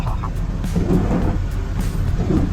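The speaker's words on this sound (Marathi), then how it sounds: "पाऊस चालू झाला बघा खतरनाक असा पाऊस" Heavy rain drums continuously on a mountain ghat road beside a deep, rumbling low background, like a downpour heard from inside a moving vehicle.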